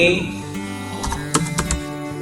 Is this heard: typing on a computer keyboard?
yes